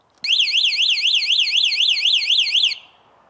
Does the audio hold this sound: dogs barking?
no